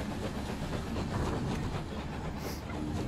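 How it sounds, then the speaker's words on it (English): A moving train rolls along the tracks in the video game Night in the Woods, a steady loud broadband rumble with faint rhythmic clatter and a brief hiss, continuous throughout with no talking. "Oh, is that the train tracks?"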